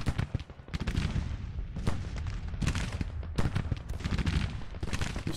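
24-pounder cannon fire in a Civil War battle game at Fredericksburg: repeated booming shots overlapping with a continuous rumble of distant gunfire, heavy and sustained throughout, with no voices.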